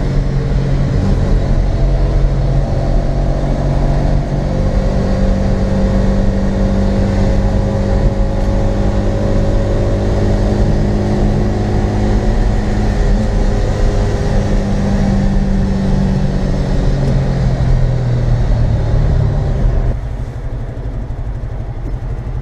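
A Bajaj Qute small car engine drones loudly and steadily from close by during a test drive in Ankara, Turkey, holding a strained pitch before easing slightly near the end.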